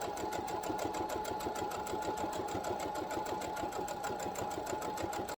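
A sewing machine running a straight stitch along wire fabric, with a steady, fast, even needle rhythm, close and continuous, and no voices.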